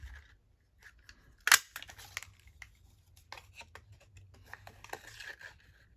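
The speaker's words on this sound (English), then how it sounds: "cut 2 circles out of that." Scissors cut two circles out of paper at a craft table. There is one sharp snip up close, then a scatter of softer snips and paper rustles, all quiet and without speech.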